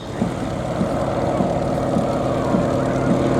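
A vintage Waco propeller biplane from the late 1920s or early 1930s flies at an airshow, its engine making a continuous loud droning hum with a steady pulsing beat and no pauses.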